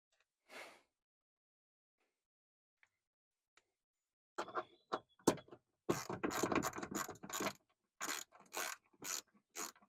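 A ratchet wrench tightens the door checker bolts on a Honda Ridgeline, with bursts of quick clicking strokes, close and fairly quiet, separated by short pauses after a near-silent start.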